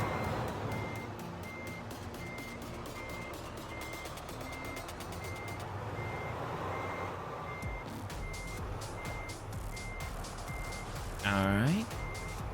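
A truck backing a double trailer in a driving video game sounds a steady run of evenly spaced reversing beeps over a low engine rumble, with people talking at times.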